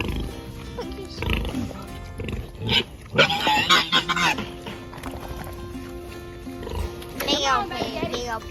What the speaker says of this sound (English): Big old pig, big old pig.